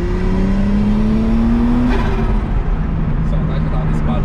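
A Ferrari engine drones loudly and steadily as it revs, its pitch climbing then settling, with a voice talking faintly over the rumble.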